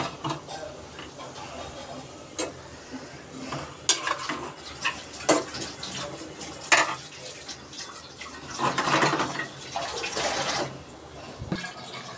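Leftover bitter gourd and shrimp curry reheating in a pan on a home stove, with scattered scrapes, clinks of a utensil against the pan and light stirring over a soft background hiss, with no talking.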